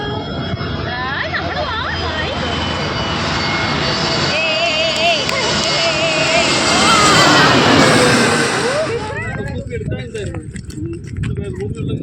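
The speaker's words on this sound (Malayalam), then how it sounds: "guys plain" Airplane engine roaring steadily during a trip to Goa, a broad loud drone with a rising swell that fades near the end, while people talk over it throughout.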